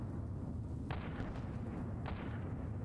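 Two sharp cannon blasts in the video game Apocalipsis, about a second apart, each a crisp boom standing out over a constant low background rumble.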